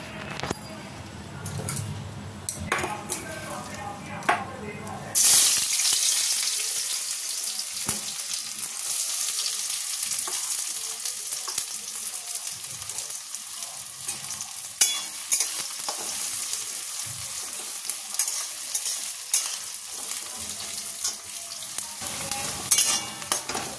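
Hot oil frying ghugni ingredients until reddish-brown, a steady broadband sizzle with stirring scrapes that starts abruptly and continues loudly, with faint talk or kitchen sounds beforehand.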